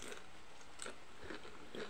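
Crunchy homemade banana chips from pisang geulis bananas, bitten and chewed up close in a quiet rural setting in southern Subang, with a few soft crisp crunches spaced through a faint background and no talking.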